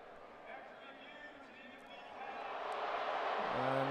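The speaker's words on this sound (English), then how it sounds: "the disapproval of the crowd lets you know it's an incomplete pass" Football stadium crowd at a Michigan versus Ohio State game swelling into a broad, rising roar of disapproval over an incomplete pass, with the roar growing louder toward the end.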